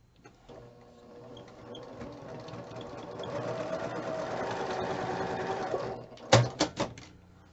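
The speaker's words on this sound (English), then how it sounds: "I'm going to go ahead and sew these 2 together so we can get this center piece out of the way" A sewing machine stitching Christmas quilt block pieces together runs in one steady whirring burst that builds for several seconds, then stops, followed by a few sharp clicks and thumps close by.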